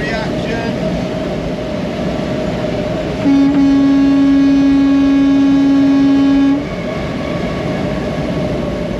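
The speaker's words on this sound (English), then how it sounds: "I've just been chasing this train for a while." A train passing alongside a highway on flat Texas terrain, heard as a steady rumble from inside a moving vehicle, with a long sustained horn blast in the middle; someone talks over it.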